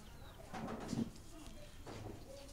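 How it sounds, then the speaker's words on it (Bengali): Two young pigeon chicks at a village home, making soft, close cooing calls in a couple of short bursts over a quiet background. "বাড়িতে দুটো বাচ্চা পাইছি কবুতর, এটা নিয়ে এসেছি।"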